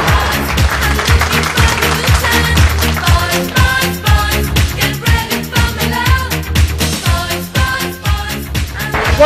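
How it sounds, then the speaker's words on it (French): A crowd at a 1990 Circuit des Mines cycling stage applauds the Lorraine team, with dense, loud, steady clapping carrying on throughout over rhythmic music. "On applaudit l'équipe de Lorraine."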